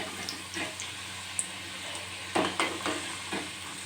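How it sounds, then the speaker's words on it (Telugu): Karjikaya dumplings made with Bombay rava, frying in hot oil with a soft, steady sizzle and several short splashes and stirring clatters near the end, no talk. "ఇక్కడైతే ఒక్కొక్కటి వేసేసి కాల్చుకోవడమే"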